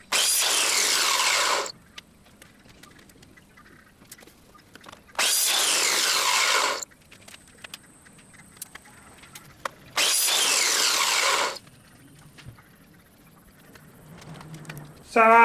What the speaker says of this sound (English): I find the compound miter saw does a nice clean cut